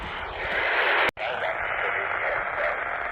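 CB radio static hisses through a portable loop antenna, with a faint voice buried in the noise, briefly cutting out for a moment before the crackling reception resumes.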